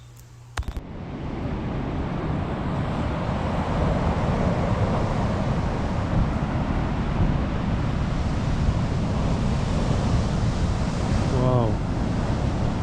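Ocean waves roll onto a beach on New Zealand's west coast at nightfall as a loud, steady roar of surf mixed with wind noise, after a brief click at the start.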